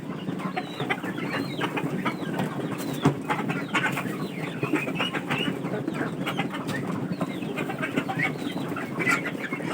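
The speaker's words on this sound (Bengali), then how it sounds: "মানে শুধু হাঁসগুলোই খাচ্ছে" Flock of ducks feeding at a spread of feed on a farm, with dense overlapping quacks and clucking-like calls forming a steady, busy chorus close by, other poultry nearby, no talk.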